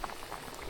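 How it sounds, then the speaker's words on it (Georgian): Sweet corn boiling in a pot of water, prepared as carp bait, gives a steady bubbling and popping simmer that runs continuously, close and moderately quiet, with no voices. "ჯერჯერობით აი ესე იხარშოს რა"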